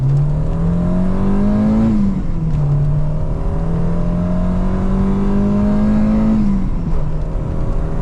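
A Peugeot 309 GTI 16 multivalve engine pulls hard and loud under acceleration, its note climbing steadily, dropping briefly at a gear change, then climbing again toward a second shift, with no talking.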